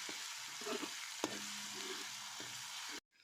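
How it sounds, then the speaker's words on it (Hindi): A soft, continuous sizzle of ginger garlic paste frying in a pan, with a few light clinks and scrapes, ending abruptly. "अब इसमें अदरक लहसुन का पेस्ट शामिल कर देंगे और फ्राई कर लेंगे।"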